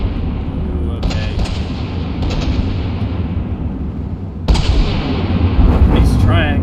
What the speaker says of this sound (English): These triangle cannons are really cool.